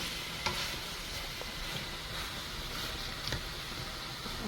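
Mixed vegetables including broccoli stir-fried in a pan, a steady close hiss of frying with faint intermittent clicks and scrapes of stirring.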